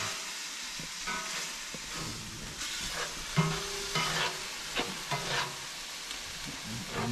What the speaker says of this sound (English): Just got to get a good sizzle in there.